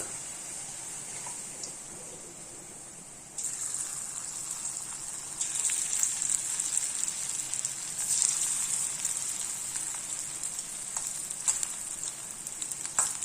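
Loud, steady crackling sizzle of pudalangkaai (snake gourd) pieces deep frying in hot oil, continuous and close, growing fuller partway through with bursts of bubbling.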